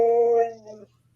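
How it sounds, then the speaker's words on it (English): A husky dog gives a short whining, talking-style vocalization up close, a drawn-out tonal whine that breaks off after under a second, followed by quiet. "Huskies will do that, like talking to you, barking sound."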